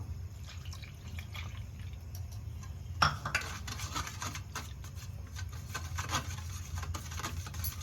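A spoon stirs and clinks in a bowl of cake batter made with eggs, sugar and milk, giving soft wet sloshing with repeated light taps against the bowl, close up and steady, with no speech.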